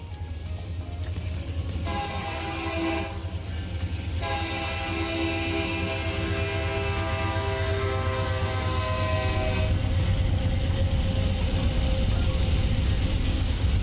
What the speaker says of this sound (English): Horn is amazing though, if no one's ever heard it.